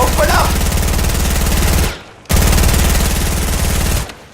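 Sustained P90 automatic fire in the video game Fortnite, a loud, dense rapid-fire stream that cuts off briefly, then resumes in a second long burst before stopping.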